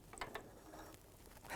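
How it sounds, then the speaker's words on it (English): A sewing machine stitches strips of fabric together for a star cushion, giving quiet, quick mechanical ticking and whirring with a few sharper clicks in a soft, even run. "so we're sewing our strips together now"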